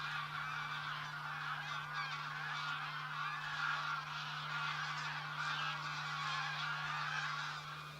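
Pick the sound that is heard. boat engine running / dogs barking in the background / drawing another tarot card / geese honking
geese honking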